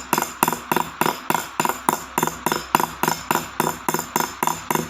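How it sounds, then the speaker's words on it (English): Metal hammered around cubic zirconia stones in a stone-setting job, struck in a steady run of about fourteen sharp, evenly spaced taps, close and fairly loud with no talking. "We hammer metal around the stones"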